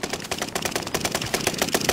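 Rapid automatic gunfire from the video game Warzone crackles in a fast, steady stream of sharp shots, loud and close with no voices.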